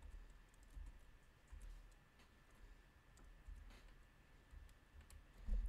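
Soft, quiet keystrokes tapping irregularly on an English-layout computer keyboard, scattered light clicks across several seconds with no voices.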